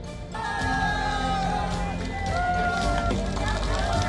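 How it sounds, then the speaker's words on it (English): A large crowd in Delhi cheers and whoops at a late-night election campaign appearance by Chief Minister Arvind Kejriwal standing atop his car, a loud, continuous roar of voices with shouts throughout. "The crowd cheered at him at a late-night appearance as he stood atop his car"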